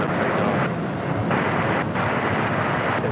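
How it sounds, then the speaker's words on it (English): A Delta airliner at LAX gets ready for takeoff with a steady, loud broadband engine rush and some wind buffeting on the microphone. There are no voices. "This is Delta Flight 7 getting ready to take off to Tokyo Haneda."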